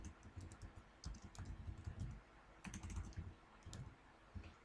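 Fingers type on a computer keyboard in bursts of quick, close clicking keystrokes with short pauses between runs, fairly quiet and with no talking.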